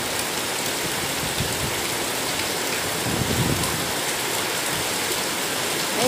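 Heavy rain pours steadily outdoors around a home with a painted gate and garden plants, a dense continuous hiss with occasional heavier splashes, close and loud throughout with no talking.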